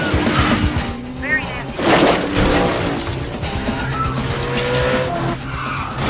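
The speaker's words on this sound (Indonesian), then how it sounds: "kabur dengan menggunakan mobil curian dan terjadilah aksi kejar-kejaran" A stolen car in a chase skids and squeals its tires with engines roaring and a crash-like impact, loud and busy, with voices mixed in.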